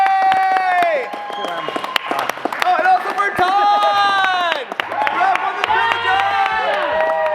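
A group of people on a film set claps and cheers loudly at the end of a shoot, dense close applause continuing throughout while a voice speaks over it.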